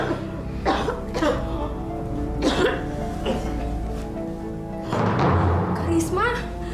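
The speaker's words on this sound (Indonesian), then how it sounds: "kenapa bisa batuk darah begini?" Coughing from a character in a dramatic scene who is coughing up blood, several harsh bursts spread across the clip over background music, with a heavier fit near the end.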